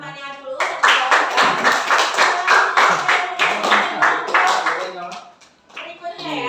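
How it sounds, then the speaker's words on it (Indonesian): A classroom of schoolchildren claps for a classmate who asked a question, a dense burst of many small hands lasting several seconds, with children's voices chattering over it before it fades out. "kita kasih tepuk tangan untuk teman kamu yang bertanya dulu"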